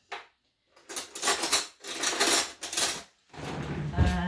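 A metal spoon stirring table salt in a container to dissolve it, producing several bursts of scraping and clinking, each lasting about a second, separated by short pauses and ending in a rattling clatter.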